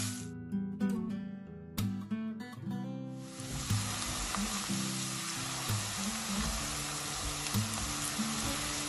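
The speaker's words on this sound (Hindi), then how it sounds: "ऑनियन को हम थोड़ा सा गोल्डन ब्राउन होने तक भून लेते हैं" Chopped onion sizzles and fries in a hot pan, a steady broadband crackle that swells loudly after about three seconds and runs on over a low background hum, with no talking.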